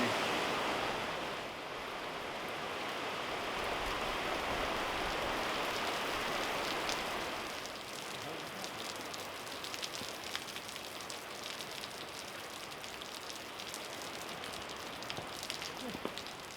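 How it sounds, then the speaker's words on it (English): Light rain falls steadily as a soft, even hiss with scattered droplet ticks, heavier at first and easing after several seconds, with no talking. "Well, after that little rain,"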